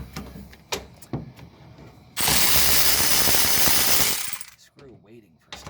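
A power tool whirs loudly and steadily for about two seconds during a fuel pump replacement on a first-generation Toyota Tacoma, with lighter mechanical clatter and handling noises before and after.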